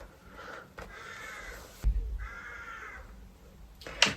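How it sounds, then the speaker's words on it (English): Crows cawing outdoors in a few harsh, drawn-out calls separated by short pauses, moderately near, with a low thump partway through. "The birds are going crazy outside today."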